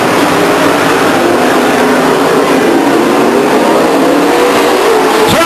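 Race cars roar down the front stretch at Stockton 99 Speedway, a loud, dense, continuous engine howl filling the whole clip, with pitch drifting as the cars pass close by.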